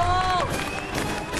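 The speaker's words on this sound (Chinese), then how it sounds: "掌声鼓励，好精彩！" A studio audience at a television variety show claps and cheers after a card trick, a short burst of mixed applause and excited voices.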